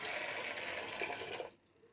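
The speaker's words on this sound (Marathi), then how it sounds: "मी आता पाणी घालून घेते" Water pours steadily into a metal pressure cooker holding washed peas for about a second and a half, then stops abruptly.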